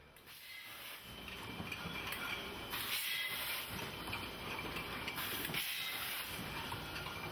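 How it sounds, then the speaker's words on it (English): A wine bottling machine able to fill 130 cases an hour runs steadily at a vineyard, giving a continuous mechanical clatter and hiss with rhythmic ratcheting pulses that rise and fall every couple of seconds. "This machine can bottle 130 cases per hour and is the final step in the winemaking process."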